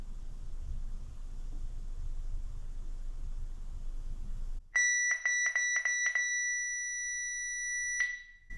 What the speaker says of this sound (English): So once you get that beep, the thing is done.